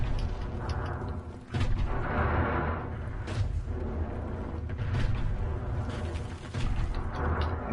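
Gunfire rattles behind the player in Wolfenstein: The New Order on PS4, bursts and booms mixed with mechanical clanks in a dense, loud game soundscape.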